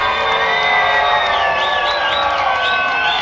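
A crowd at the 2012 420 Victoria gathering cheers for a costume-contest entrant dressed as Weed Woman: a loud, sustained roar of voices with high whistles rising through it.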